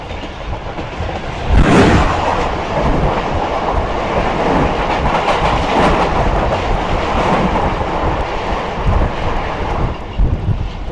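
A passenger train, the Rehman Baba Express, rolls in toward Jamrud railway station on a winter journey, heard from on board as a loud, steady rumble with a brief louder surge early on.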